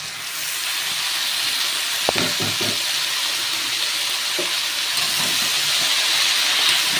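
Fenugreek greens frying in a pan with fried potatoes, giving a constant loud steamy hiss with a few short utensil clanks partway through.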